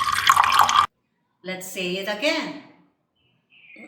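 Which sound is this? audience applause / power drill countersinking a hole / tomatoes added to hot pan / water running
water running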